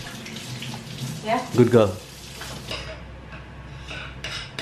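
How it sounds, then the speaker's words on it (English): A home dishwasher running nearby, steady watery swishing and sloshing continuing throughout, with a person speaking briefly over it. "the dishwasher's running, by the way"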